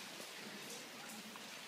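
Rain falls steadily on an outdoor market, a dense, even hiss of drops on surfaces with no breaks through the short stretch.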